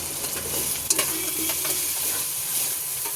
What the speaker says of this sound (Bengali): কষাবো এবার।